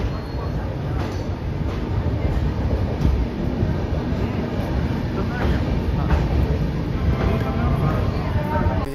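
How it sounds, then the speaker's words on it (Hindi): A Tejas Rajdhani Express passenger train pulls into Ghaziabad Junction railway station, a steady loud rumble of rolling stock and wheels on track running throughout with station bustle underneath. "यहाँ पर 11:22 पर हमारी ट्रेन का अरावल हो गया है गाजियाबाद जंक्शन रेलवे स्टेशन पर"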